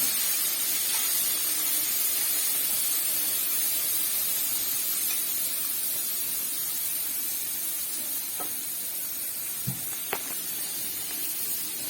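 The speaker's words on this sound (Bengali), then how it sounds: "এখন সর্ষা, পেঁয়াজ আর কাঁচা লঙ্কা যে ছিল ওইটা পেস্ট দেওয়া হচ্ছে।" A paste of mustard, onion and green chili sizzles in a pan, a steady soft hiss lasting throughout with a few faint clicks and pops.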